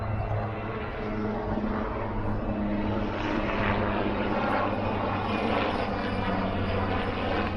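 Aircraft engines run at a plane museum, a continuous droning propeller-like hum with steady low tones, fairly close and unbroken, with no talk over it.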